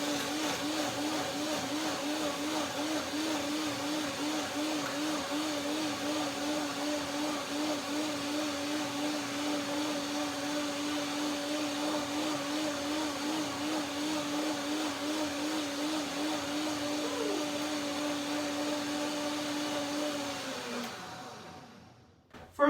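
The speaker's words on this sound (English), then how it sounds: "Blender dance." A countertop blender runs steadily, whirring through a cashew, banana and milk soup with water, its motor humming with a slight wobbling pitch for about twenty seconds before winding down and stopping.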